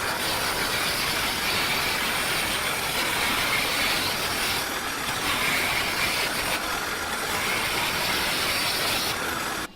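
A 350 watt mini lathe runs continuously, its steady motor whir and broad hissing roar from a makeshift chisel cutting into spinning wood, loud and close with no pauses.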